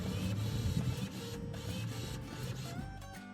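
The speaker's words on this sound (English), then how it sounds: "she has started sounding more like a printer than a car" A car making a printer-like noise: steady mechanical whirring and chattering, fairly loud and close, running without pause for about three seconds with no voices.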